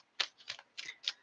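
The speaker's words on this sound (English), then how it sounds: "Shuffling is still happening." Tarot cards are shuffled by hand in close, crisp riffling bursts, four or five quick rustles in a row with short pauses between them.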